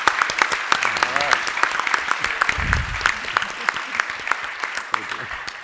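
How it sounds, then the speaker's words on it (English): An audience claps for a panel of tech investors at an evening event. The applause is steady and sustained with sharp individual claps, and a voice and a low murmur run briefly beneath it. "should we give a round of applause for all the panelists?"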